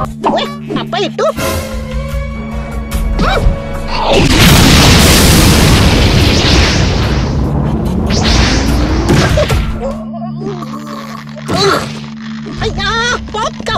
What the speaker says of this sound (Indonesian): Ada ledakan benda jatuh dari langit